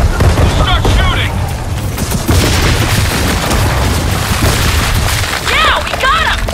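Gunfire and booming blasts in the Gears of War 4 video game, loud and sustained with rapid shots and deep impacts, while voices speak over the combat.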